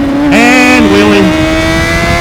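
A motorcycle engine revs sharply up and then eases back as the rider pops a wheelie, a close, loud rising whine that falls away within a second.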